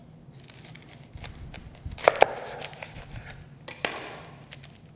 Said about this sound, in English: I like to take my onion, I like to cut it in half lengthwise